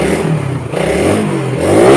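A Suzuki Satria FU motorcycle engine fitted with a PWK 28 carburetor runs close and loud, a steady rough idle with a slight rise in revs toward the end.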